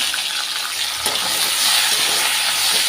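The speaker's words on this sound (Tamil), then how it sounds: "வெங்காயம் தக்காளி எல்லாமே லைட்டாக வதங்கிருச்சு" Onion and tomato sauté in a pan for chutney, a loud, bright, continuous sizzle that swells a little after a brief scrape partway through.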